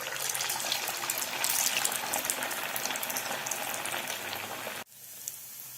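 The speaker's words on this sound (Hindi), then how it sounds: "दूसरा साबूदाना वड़ा डालेंगे।" Sabudana vadas frying in hot oil give a loud, steady, dense sizzle with fine crackles, which cuts off abruptly near the end into quiet.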